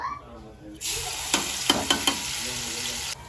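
Garlic and ginger paste drops into hot tempering oil for a Kathiyawadi sour gathiya gravy. A loud burst of sizzling starts abruptly and holds steady, with a few quick stirring clicks, then cuts off.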